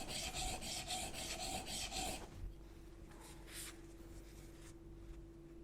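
Back of a blade rubbed flat on a 300-grit diamond plate, rhythmic rasping strokes for about two seconds, then quieter scattered scrapes over a low steady hum, faint and close.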